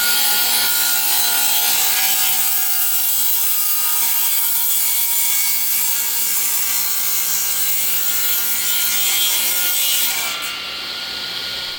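A hand saw cuts a slot for an oak spline into a broken chipboard shelf, steady rasping strokes running loud and continuous, close up, easing off near the end with no talking.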